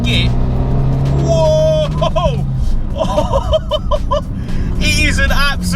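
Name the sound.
Abarth 500 250 bhp car engine accelerating in third gear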